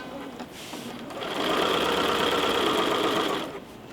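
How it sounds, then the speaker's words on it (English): A sewing machine with a walking foot quilting straight rows of stitching on a pillow: a steady, close mechanical whirring hum that starts up, runs evenly for about two seconds and then slows away. "my arm on my walking foot is going to ride on that last row of stitching"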